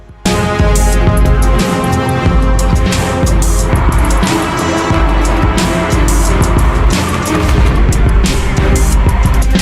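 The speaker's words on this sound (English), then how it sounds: "The black car lost control while swerving onto the road and fell down the mountain" A black car swerving onto a mountain road, skidding and losing control before crashing, with loud continuous engine roar and tire noise throughout, close and dense, with no talk over it.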